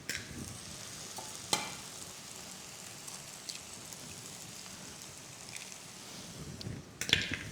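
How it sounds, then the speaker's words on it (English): Two eggs sizzle in a pan beside cooked vegetables with a soft, steady crackle, broken by a few sharp spatula scrapes and taps at the start and near the end. "Scramble them over here. Go ahead and let them cook up a little bit"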